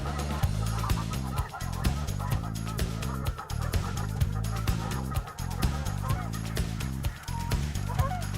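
A flock of snow geese honks repeatedly in a dense, overlapping chorus, loud and close, with calls rising and falling throughout a foggy waterfowl hunt.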